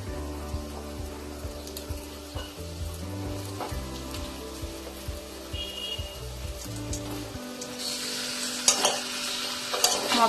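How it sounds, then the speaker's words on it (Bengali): Marinated, pressure-cooked mutton frying in Bengali spice masala, with rhythmic spoon scrapes and stirring knocks over a steady sizzle, close up; the stirring stops near the end, leaving hissing frying and a few clinks. "মটনগুলো দিয়ে দিয়েছি মশলার মধ্যে, আমি 10 মিনিট কষে নেব"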